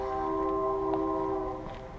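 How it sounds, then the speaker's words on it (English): Train horn sounding a long, steady chord close by over the rumble of a passing train, fading slightly at the end. "Trains rolling through."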